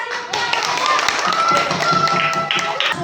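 Children clap together in a classroom, a dense, steady patter of many hands lasting a few seconds, with voices mixed in around the applause.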